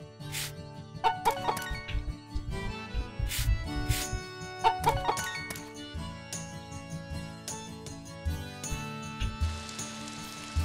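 A chicken clucks in the farming game Story of Seasons: Pioneers of Olive Town, short repeated clucks heard over bright, busy game music and chimes that fill the background throughout.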